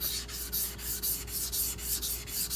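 A Karaku AS gyuto 210mm knife is sharpened on a lapped Naniwa whetstone with slurry, giving close, steady rhythmic scraping strokes, about two per second, with no talk.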